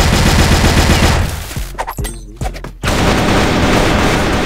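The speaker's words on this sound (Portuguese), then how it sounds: "Ele tá abrindo e tá atirando." Loud, close automatic gunfire in a video game, with rapid continuous bursts that drop out briefly to a few isolated shots and thuds before the sustained firing resumes.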